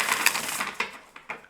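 A large, oversized deck of playing cards being shuffled in a few separate bursts, each a crisp riffling flutter with sharp slaps between them, close and fairly quiet.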